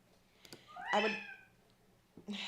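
A single clear indoor meow from a house cat rises and falls in the middle, with faint background noises around it.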